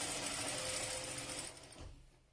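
A sewing machine runs along the ruffled hem of a baby dress, a fast steady whirring that slows and fades out toward the end, with no talking.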